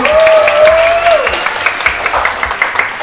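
Studio audience claps on a dating game show in Warri, a brief burst of applause under a sustained musical tone, with individual claps then sounding in a loose rhythm.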